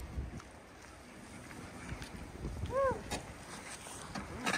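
Wind gusting outdoors on a chilly, exposed rise near a river, a steady low buffeting rumble with broadband rushing that swells toward the end and no talk over it.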